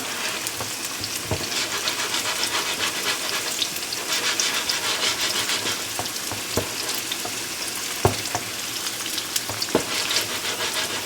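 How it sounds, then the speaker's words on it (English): Pierogi frying in hot oil, giving a dense, steady sizzle that runs throughout with a few soft knocks and clinks, loud and close, with no voices. "we're going to fry these up"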